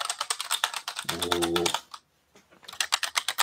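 Typing on a basic white MSI keyboard matching its computer's branding, a fast run of crisp, close key clacks that pauses briefly and then resumes, with a short spoken exclamation in the middle.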